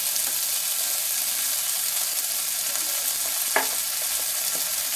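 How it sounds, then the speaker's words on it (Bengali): Spices and turmeric fry in a pan for a chickpea curry, giving a steady soft sizzle with one brief scrape of stirring partway through, and no talking. "মশলাগুলা দিয়ে ভালোভাবে কষিয়ে নিচ্ছি, যাতে মশলাগুলার কাঁচা গন্ধটা না থাকে।"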